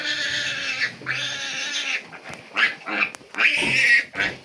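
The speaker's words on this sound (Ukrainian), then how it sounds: "поросята поросята дуже довгі, головаті, великі поросята" Piglets on a Ukrainian farm squeal and grunt in a series of sharp, high cries of varying length, close by, with no talk over them.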